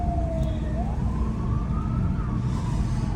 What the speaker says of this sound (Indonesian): Di belakang ada antrian ambulan yang sepertinya buru-buru.